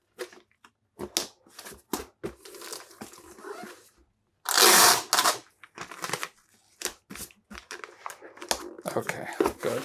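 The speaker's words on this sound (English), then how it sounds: "that sound of the paper crinkling" Paper crinkles and crackles in short bursts, close by, with one louder rustling stretch in the middle and quiet gaps between.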